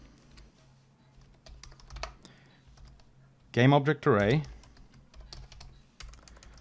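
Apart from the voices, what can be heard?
typing on a computer keyboard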